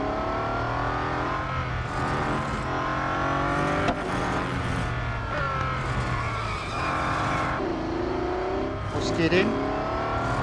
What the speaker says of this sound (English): Skidding.